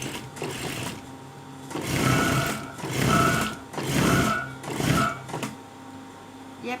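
A sewing machine stitches a round neckline in about four quick, whirring runs. Each run rises and falls in loudness, with brief near-silent gaps between them.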